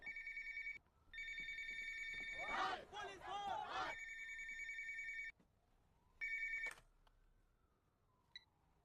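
In a South Indian film scene, a telephone rings in long electronic trills, broken by a burst of voices and crowd noise, then a short final ring before it stops.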